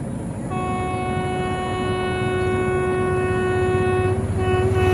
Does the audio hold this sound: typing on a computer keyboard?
no